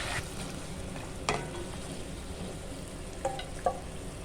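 Finely chopped large onions sauté in a pan for a methi chicken dish, a soft steady sizzle with a few sharp stirring clinks and scrapes, no voices.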